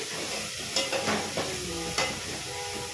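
Ingredients for kara kuzhambu sauté in a pan with a continuous soft sizzle, punctuated by several clear stirring scrapes at irregular intervals, no speech.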